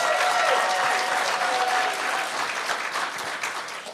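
An audience at a security-awareness conference in Clearwater, Florida applauds during a live podcast recording, dense, even clapping from a full room that gradually tapers off.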